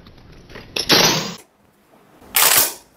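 Metallic clacks and slides from a Saka Arms FP12 foldable shotgun being loaded, with a sharp racking clack followed by a second, loud, harsh mechanical rasp about a second and a half later, both close.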